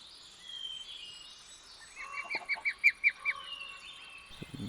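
Birds at a nest in a modded video game give a short run of honking, goose-like calls, about six distinct notes in quick succession amid a soft ambient background, with no talk.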